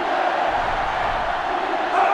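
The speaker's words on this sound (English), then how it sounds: "this crowd is going absolutely insane" A packed football stadium crowd roars wildly during a 1961 UCLA versus Alabama college game, a loud, dense, sustained wall of cheering and yelling with no break.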